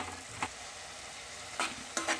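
Ridge gourd curry sizzling gently in a pan while coriander is stirred in, a soft steady frying hiss broken by a few quick scrapes of the spoon against the pan, close by with no voices.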